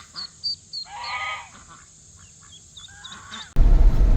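Ducklings peep in short, high bursts while a mother duck quacks in between, close and clear, before a loud rustling thump of handling cuts in at the end.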